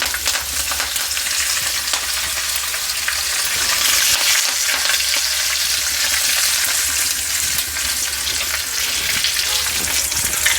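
Dried red chillies, asafoetida and curry leaves fry in a pan of oil as tempering for a fenugreek leaf chutney. The sizzle is loud, close and steady, with faint stirring and no speech.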